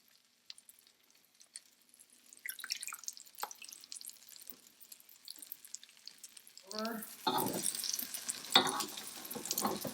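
Stuffed French toast going into melted butter in a pan on medium heat: quiet scattered clicks first, then a sudden burst of loud crackling sizzle that continues, with a voice speaking briefly.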